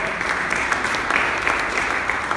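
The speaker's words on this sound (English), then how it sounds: "Give her a round of applause." Audience clapping at a health clinic grand opening ceremony, a steady wash of many hands continuing evenly without voices.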